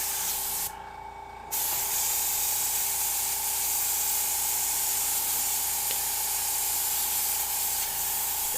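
An airbrush that is working poorly sprays paint through a stencil as a loud, continuous hiss, broken by one short drop in volume near the start before the steady spray resumes.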